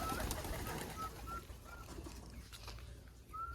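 Pigeons coo softly a few times, short low calls repeating at intervals over a steady background hum, fairly faint and with no talk.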